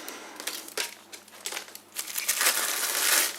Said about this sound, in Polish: Jeszcze zaraz zdejmiemy tą folię, pokażemy.